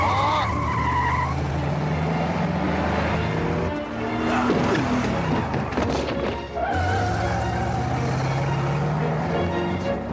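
A car driven erratically swerves with tires squealing and skidding in long wavering screeches over a revving engine, loud and close, with a brief lull before the squeal resumes.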